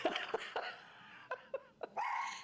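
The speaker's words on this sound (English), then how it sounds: "There's the dogs." Several dogs bark in short, sharp bursts, with a few yips and a whine between them, fairly close and loud.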